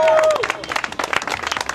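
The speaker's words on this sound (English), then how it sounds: "On les applaudit très fort." A crowd claps and applauds briefly, with a short voice at the start and loose, uneven clapping continuing through.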